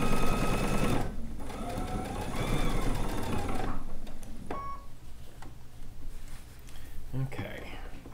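A sewing machine fitted with a J foot stitches a bucket hat in a steady whirring run, then stops, leaving quiet handling noises and short clicks, while a person talks throughout.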